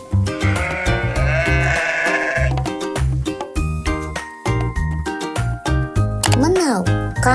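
A sheep bleats in a string of loud, close, wavering cries, alternating with short spoken words from a person in between the calls.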